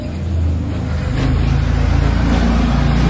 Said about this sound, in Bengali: এত গাড়ি যায়, কথা বললে শুনতেই পাবে না